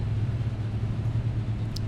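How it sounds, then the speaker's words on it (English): Car noise carries in the background, a steady low engine rumble that holds without a break. "I can hear that car noise."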